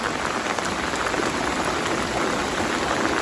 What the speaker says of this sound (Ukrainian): Достатньо багато води йде, а отут лужа.